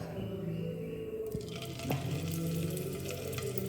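Paneer frying in hot oil, starting with a sudden hiss as the pieces hit the pan, then a steady, close crackling sizzle over a low background hum.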